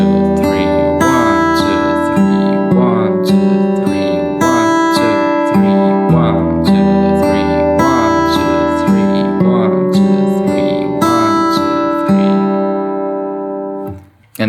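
A fingerstyle guitar is picked in a repeating thumb-index-middle-ring-middle-index pattern, steady rolling triple rhythm with ringing chords, close and clear, fading out at the end with no voice.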